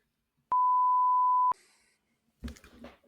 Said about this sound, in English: we can bleep you out too